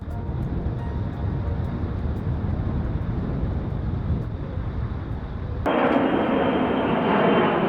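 A large propeller aircraft coming in to land gives a loud, continuous engine drone that shifts abruptly, late on, into a brighter, harsher rushing roar.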